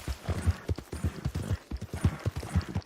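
A horse's hooves clip-clop at a steady trotting rhythm in the Red Dead Online video game, close and distinct, with no talking over them.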